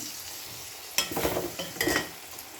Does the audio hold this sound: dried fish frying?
yes